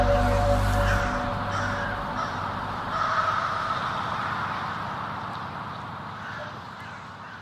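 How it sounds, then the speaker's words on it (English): Crows caw repeatedly in an empty park in Tallinn, Estonia, their calls carrying over a soft outdoor hush, with a louder rumble at the start. "just us and the crows"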